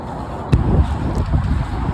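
Cold wind blows through a garden in the UK, buffeting the microphone with a steady low rumble and one brief gust near the start.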